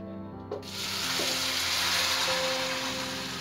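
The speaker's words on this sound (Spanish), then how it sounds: "Y aquí en el sartén vamos a agregar la, salsa." Green chile salsa poured into a hot oiled frying pan bursts into a loud, steady sizzle that swells after a brief splash and holds as a broad hiss with no talking.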